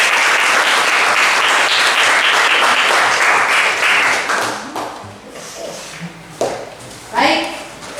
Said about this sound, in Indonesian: Berikan aplaus untuk kelompok.